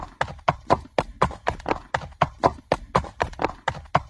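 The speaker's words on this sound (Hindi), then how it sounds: "लकड़हारे ने लंगड़े व मरियल घोड़े को लेकर बाजार की ओर रवाना हो गया।" Hooves of a lame, skinny horse clip-clopping steadily, about three evenly spaced strikes per second, close and clear with no voices.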